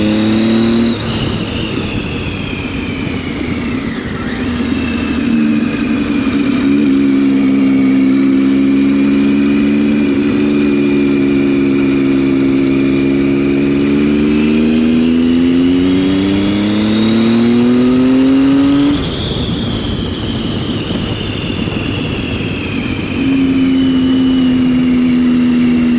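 A motorcycle engine heard from inside the rider's helmet, loud and close, drones steadily for the whole stretch with wind rush, its pitch rising and falling as the rider accelerates and eases off, with no talking.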